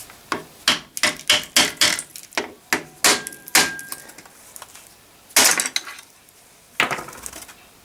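Metal tool work on a 1954 Panhard Junior chassis brake, prying a brake shoe spring free with a notched screwdriver: a rapid series of sharp metallic taps and clinks, then a few louder isolated knocks, close up.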